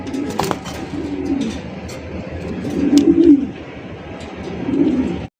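Male pigeons at a bird market cooing up close, several low, throaty coos rising in three swells, loud and with no talk over them.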